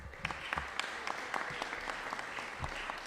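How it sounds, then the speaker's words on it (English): A crowd applauds steadily at a Buffalo event on the Kensington Expressway project, a dense wash of clapping with a few louder individual claps standing out. "Let's give him a round of applause."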